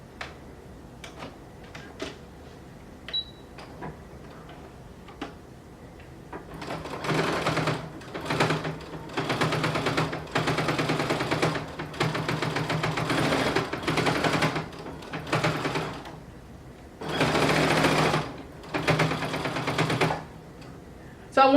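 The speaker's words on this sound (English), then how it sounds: "you're going to sew another line of top stitching parallel to what you just sewed, about a quarter of an inch away." A sewing machine runs top stitching on jeans in several loud, close bursts of rapid stitching separated by short pauses, after a few soft clicks and handling sounds at the start.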